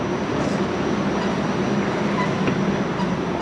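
A Sydney metro train rumbles through Wynyard station in a loud, steady roar with faint rail hiss, a brief higher squeal and no voices.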